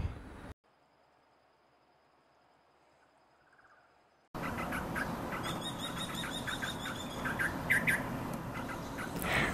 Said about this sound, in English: Bird chirping is rather simple but it means a lot.